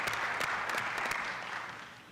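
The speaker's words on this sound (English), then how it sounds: "How about a round of applause?" Brief applause in a city council meeting chamber, a modest crowd clapping in uneven bursts that fade out over about two seconds.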